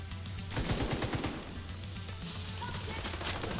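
An automated turret in The Division 2 fires rapid bursts of gunfire, loud and continuous over several seconds amid other combat noise.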